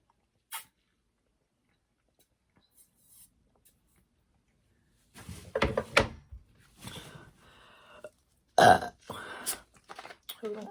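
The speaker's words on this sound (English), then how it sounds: "I'm gonna give y'all some burps before I go." Loud burps break out after a seafood mukbang of snow crab, shrimp and mussels. They follow a quiet stretch with a few soft knocks, and one strong belch stands out near the end.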